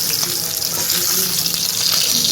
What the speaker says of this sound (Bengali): এখন মাছটা আমি ভেজে নেবো লাল তেলে